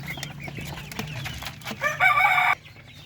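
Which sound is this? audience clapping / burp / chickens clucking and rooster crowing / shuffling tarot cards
chickens clucking and rooster crowing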